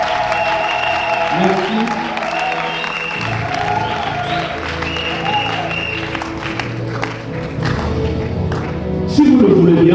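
A wedding congregation in a church breaks into loud, sustained applause that fills the whole stretch and rises near the end, with a voice speaking over it.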